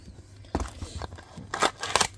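A knife slicing through the seal of a 2020 Bowman Chrome trading card box, with a few short scraping and crackling cuts in quick bursts, close and fairly soft, no talking.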